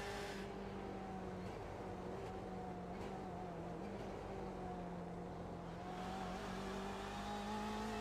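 A BMW race car in iRacing at Sebring's Sunset Bend fights for grip through the corner, its engine a steady droning whine that wavers in pitch, with a faint scrubbing roar beneath and a slight rise near the end.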